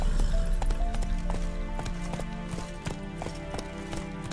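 Roach, a horse in the video game The Witcher 3, gallops with rapid rhythmic clip-clop hoofbeats over steady game music, slowing slightly toward the end.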